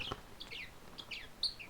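A pet parrot that mimics speech chirps and whistles several short high calls indoors, faint and close, in quick separate bursts with no voices around them.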